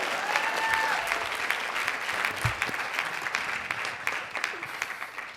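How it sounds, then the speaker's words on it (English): Audience at a marketing event applauding to welcome a speaker to the stage, steady, moderately distant clapping lasting several seconds with faint voices and a whistle or two mixed in. "Big round of applause."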